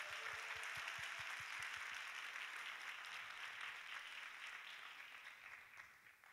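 Church congregation applauding at a young adults' worship service, a dense steady wash of clapping that carries on throughout and tapers slightly near the end.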